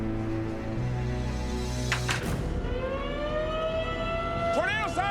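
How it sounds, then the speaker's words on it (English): A rising and wavering tornado warning siren wails through a steady background roar, joined near the end by looping swoops, while people's voices are heard faintly. "Tornado sirens!"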